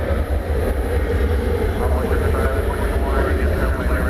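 A Boeing 737-800 taking off at night from DFW Airport, a continuous broad roar of jet engines holding steady at moderate distance, with steady background noise throughout.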